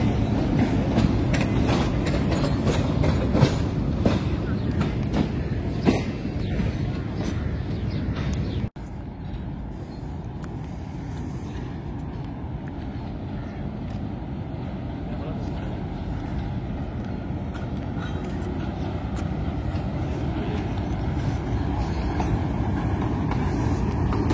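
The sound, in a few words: train at Rawalpindi station, Islamabad Express rake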